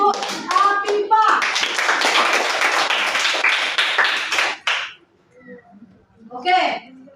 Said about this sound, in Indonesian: kita beri aplaus untuk Afifah